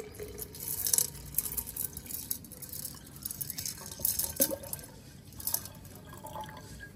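Water trickles and drips into an aquarium being filled at home, with soft splashes and liquid gurgles coming in uneven bursts, fairly close and faint, with no talking.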